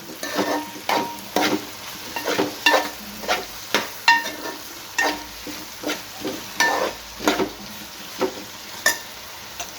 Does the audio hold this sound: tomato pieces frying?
yes